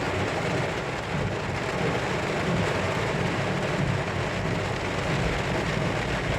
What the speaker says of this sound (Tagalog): lakas ng ulan dito sa Riyadh.